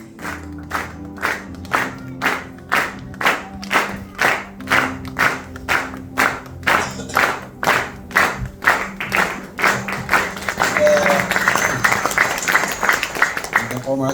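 A church congregation claps together in a steady beat of about two claps a second, then grows louder and denser as voices join in.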